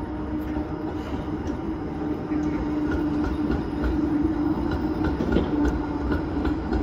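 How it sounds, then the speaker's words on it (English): A tram passes through Tampere city center with a steady low rumble and rolling rail noise, a faint tonal hum running beneath and light clicks, at moderate distance with no voices. "There's the tram number 3."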